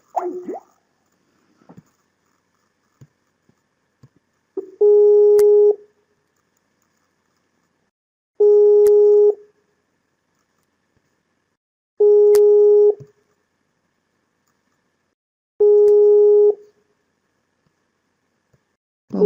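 A telephone busy signal sounds after a call is hung up, four loud, evenly spaced tones, each about a second long, separated by roughly three seconds of silence, with faint clicks before them.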